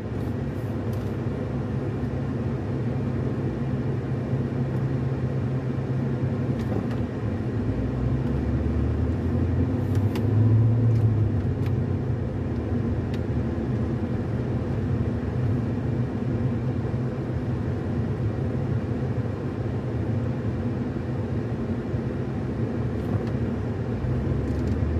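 Steady low rumble of a car cruising around town in Woodward, Oklahoma during high wind and blowing dust, a continuous engine and road drone from inside the vehicle with no talk.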